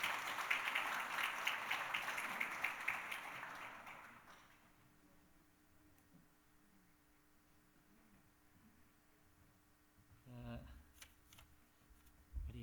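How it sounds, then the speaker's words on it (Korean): A church congregation at a Sunday worship service breaks into dense, lively applause for about four seconds, then it stops abruptly into a quiet room with only faint shuffles and a couple of brief knocks. "큰 박수로 축하해 주시기 바랍니다."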